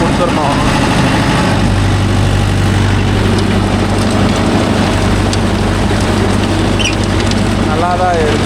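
A Mahindra Yuvo Tech Plus 585 4WD tractor idles with a steady low diesel rumble that holds throughout, loud and close, with people talking over it.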